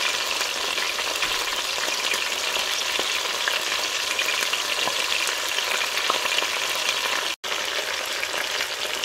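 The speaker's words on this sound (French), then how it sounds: "Donc on va laisser notre viande griller gentiment." Oxtail meat frying gently in a pan, a steady close sizzle and crackle running continuously with only a brief break near the end, no voices.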